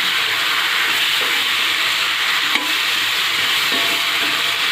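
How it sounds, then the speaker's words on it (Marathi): Green beans tossed into a hot pan and stirred for a potato and green bean stir-fry, giving a steady, loud sizzle and hiss that runs without a break, with one faint clink of the spoon midway. "आता याच्यामध्ये आपण फरसबी घालूया।"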